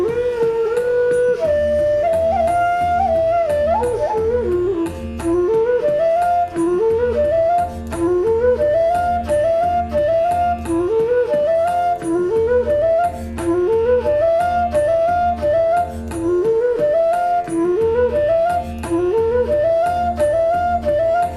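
A bansuri flute plays Bhinna Shadja 16-beat taans: quick rising and falling melodic runs repeated in a steady cycle over a sustained drone and soft rhythmic accompaniment, loud and close with no talking.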